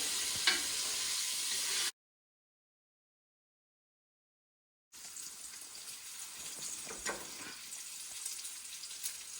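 Pancetta fries in a pan as its fat renders out, a faint crackling sizzle with occasional pops, interrupted by a silent stretch of about three seconds before the soft sizzling returns.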